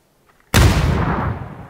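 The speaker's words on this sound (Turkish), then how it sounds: "Bana bomba yedin ben." A bomb explodes in a video game: after near silence, a sudden, close, heavy blast hits with a deep boom that decays into a long rumbling tail.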